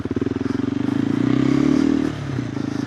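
A KTM 390 Adventure R motorcycle with a Norifumi Whoops exhaust, a close, loud single-cylinder engine note pulsing rapidly, rising briefly as it is revved in first gear and then settling back.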